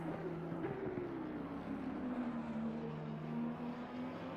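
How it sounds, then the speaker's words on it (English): Lamborghini V10 race car engine at Misano during an endurance race, a steady droning roar with shifting pitch, moderately distant and continuous under general track ambience. "I do love the sound of a V10 engine"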